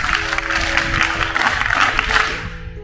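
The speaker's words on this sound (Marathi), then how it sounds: "मग तुमच्यासाठीच तुम्ही जोरदार टाळ्या वाजवा" A crowd of schoolchildren at an outdoor school gathering claps hard in a dense, rhythmic patter, loud and close, that continues for a few seconds before trailing off.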